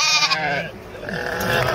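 A sheep on a farm gives a loud, close bleat, a single wavering call that fades and then rises again briefly, with no talking over it.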